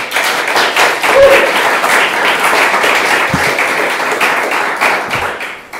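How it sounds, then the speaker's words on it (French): An audience at a conference talk applauds steadily throughout, a continuous wash of many hands clapping at moderate distance, loud and even with no speech over it. "Un tour d'applaudissements pour Hugo."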